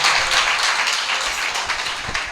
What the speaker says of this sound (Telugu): గట్టిగా చప్పట్లు కూడా దేవుని స్తుతించండి